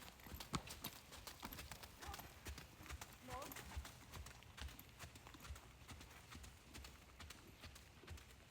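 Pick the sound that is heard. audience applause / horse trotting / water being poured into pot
horse trotting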